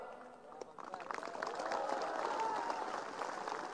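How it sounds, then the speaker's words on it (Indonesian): Audience clapping at an Islamic sermon in Riau, a modest burst of hand claps rising after about half a second and holding steady to the end, with crowd murmur mixed in. "Tengok orang ini ragu-ragu tepuk tangan."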